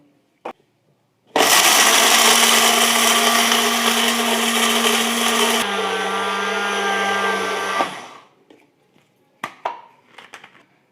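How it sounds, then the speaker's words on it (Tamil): A kitchen mixer grinder grinding roasted coriander into masala powder, a loud, steady motor whine that runs about six seconds, shifts pitch midway, then winds down, followed by a few clatters. "எல்லாம் போட்டுட்டு ஒன்றா நம்ம மிக்ஸ் பண்ணிவிடுவோம்"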